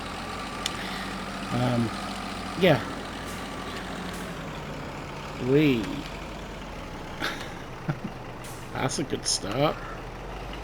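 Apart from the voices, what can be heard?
old truck engine in video game Farming Simulator 22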